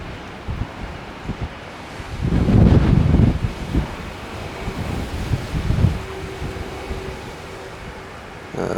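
Steady wind buffeting the microphone at an Edinburgh airport plane-spotting spot, swelling into stronger roaring gusts midway, with a constant rushing hiss throughout.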